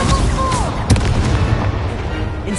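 Incendio fire spell cast in the video game Hogwarts Legacy: a dense, loud burst of crackling fire and blast-like impacts, with a sharp hit near the start and a continuous roar throughout amid game combat noise.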